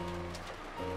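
Steady rain with blowing wind from a visual novel game, a soft continuous wash of droplets and gusts beneath tonal background music for about a second.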